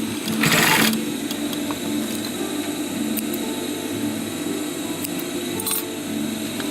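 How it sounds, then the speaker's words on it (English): A sewing machine stitching a fold of fabric for a surgical mask, a steady close mechanical whir running throughout, with a brief louder burst near the start. "Place it under a machine and sew over it."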